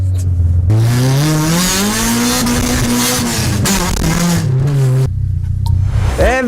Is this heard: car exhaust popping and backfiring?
yes